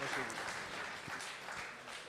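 Audience applause at the CIEL 2023 logistics trophy ceremony, fairly quiet and diffuse clapping from a crowd in a hall, with a voice talking faintly over it.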